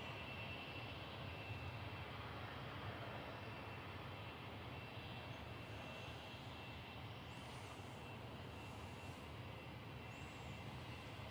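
A Ryanair Boeing 737 MAX 8200 from Alicante rumbles at Manchester Airport with a steady, faint, distant jet roar that holds throughout, with no talk.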